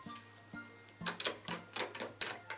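Fluffy slime being squeezed and worked by hand, giving a quick run of crisp, soft clicks and pops in an irregular rhythm, up close and fairly quiet.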